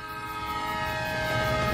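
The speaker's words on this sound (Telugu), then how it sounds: "ట్రైన్ వచ్చింది" A train arrives with its horn sounding in steady, sustained tones over a broad rumble of rail noise, growing slightly louder as it nears, with no voices.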